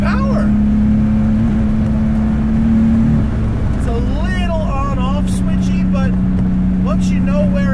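A 550 HP turbocharged BMW E30 M3 engine drones steadily on an open road, with a shifting tone partway through as it accelerates, while someone talks over the engine noise.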